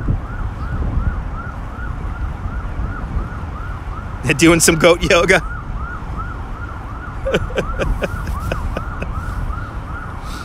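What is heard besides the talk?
emergency vehicle sirens on the street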